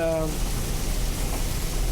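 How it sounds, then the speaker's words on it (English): Steady sizzling hiss of Sri Lankan food frying in a hot pan, continuous and even, with a faint tonal sound fading out at the start. "Oh, even the sizzle."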